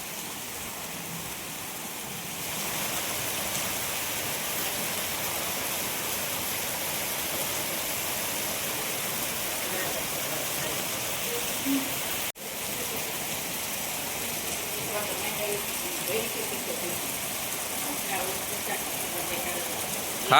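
A heavy downpour falls in Porbandar, a constant close wash of rain with a brief dip near the middle, while voices talk faintly beneath it.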